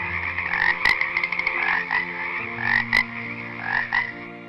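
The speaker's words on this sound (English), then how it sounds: "So God sent the second plague, a plague of frogs. Frogs were everywhere, in the houses, the ovens," A dense chorus of frogs croaking continuously, with overlapping rhythmic, raspy calls, some nearer and louder, and a few sharp clicks, with no voices.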